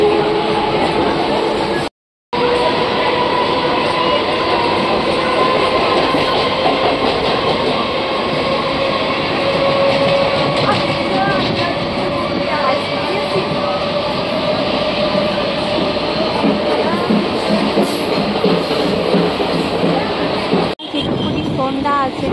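Steady rumble and rattle inside a moving passenger train at dusk, continuous and close, with a brief dropout near the start and faint voices mixed into the carriage noise.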